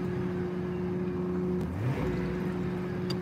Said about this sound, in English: There's that engine again